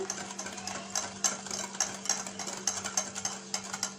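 A blender mixes quick economical three-egg cake batter with starch added, giving a steady motor hum under a rapid irregular clatter, close and fairly quiet.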